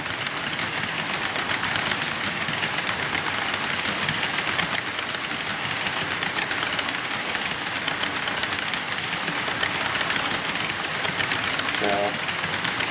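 A used Athearn CP AC4400 model locomotive, fitted with a DCC quick plug, runs steadily with a continuous even motor whir and rail rumble, close and unbroken throughout, with no voices.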